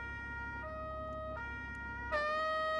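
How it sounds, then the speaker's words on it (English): A two-tone Italian police car siren in the driving game BeamNG alternates between high and low notes in a steady, close pattern, with a faint engine hum beneath. "An Italian police over here. Hear that siren?"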